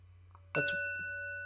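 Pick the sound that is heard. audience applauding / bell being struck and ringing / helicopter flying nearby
bell being struck and ringing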